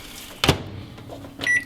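A short thump followed by the steady low hum of a microwave oven running, ending with a bright electronic beep tone near the end.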